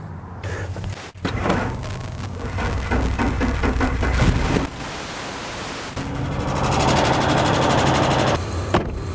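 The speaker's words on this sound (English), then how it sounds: "As you probably heard, it's got a massive exhaust leak." A car engine with a massive exhaust leak idles roughly and loudly nearby, with a raw, rattling, puffing exhaust sound and a couple of sharp clunks amid the steady rumble.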